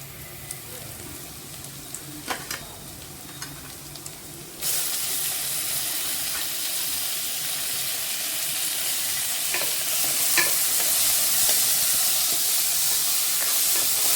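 Onions sauté for a mutton bone soup with a low, crackly sizzle and light clicks, then tomatoes go into the pan and set off a sudden, much louder, steady rushing hiss that continues to the end.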